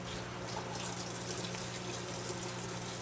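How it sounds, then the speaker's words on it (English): Tap water runs steadily over a can of beans being rinsed at a kitchen faucet, a continuous close-up gush and splash with no talking. "So let me rinse it really good."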